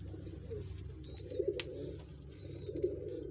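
Soft, low cooing from Ferozpuri pigeons rolls on steadily over a faint background hum, with a few slightly louder coos standing out.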